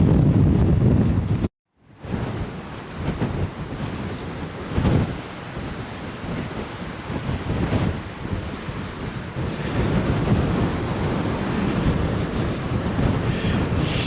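Strong wind roars and buffets the microphone over huge ocean waves breaking nearby at Ocean City, Maryland, during Hurricane Erin, with a brief dropout near the start and surf swelling louder toward the end.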